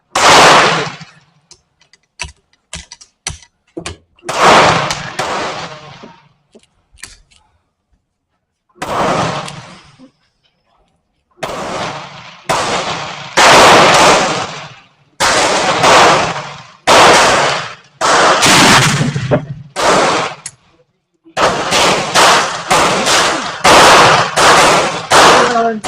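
A Werndl 1867/77 rifle fired repeatedly outdoors, loud sharp reports each followed by a long echoing rumble, spaced irregularly over about half a minute with a few quieter clicks between shots.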